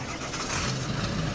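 Ford F350 pickup in SnowRunner, its engine turning over and running with a brief, rough mid-range rumble that stays loud and close.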